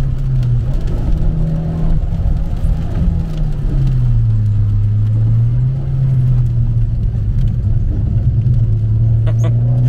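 A Citroën C6 on the move, heard from inside as a steady, loud engine drone and road rumble whose pitch dips and rises with speed changes, continuous throughout, with faint voices now and then.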